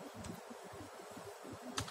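Soft, quick keystrokes on a computer keyboard as a search is typed, a faint continuous patter of taps at close range in a quiet room, ending with a slightly louder click.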